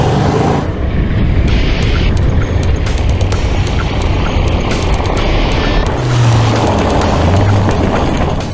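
A Brabus-modified 2002 Mercedes SL with its V8 bored out from 5 to 6.1 litres and making 426 horsepower roars loudly and steadily close by, a dense, continuous engine note with a deeper surge toward the end.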